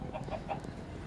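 Chickens in the Minecraft video game giving a few short clucks over a busy background of game sounds, close and moderately loud.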